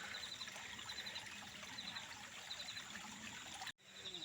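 Fresh water trickling in a forest stream on a hill trek near Thane city, a soft continuous babble close by, with birdsong above it, briefly cut off near the end.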